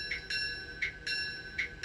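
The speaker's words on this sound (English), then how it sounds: "Yep, there's our bell." Sound-equipped N scale Intermountain EMD SD40-2 model locomotive in Kansas City Southern colors, its electronic bell ringing in a steady repeating pattern of about five strikes, faint and tinny, with no talking.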